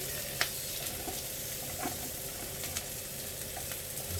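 Beef sizzles steadily in a pan for a one-pan meatball pasta bake, a loud continuous crackling fry with occasional small pops and stirring scrapes, close by.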